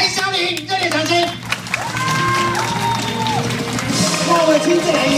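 Warm audience applause and cheering welcoming a veteran female singer on stage at a cancer-prevention association event, a loud sustained wash of clapping with whoops and crowd noise, while a host's voice carries over it.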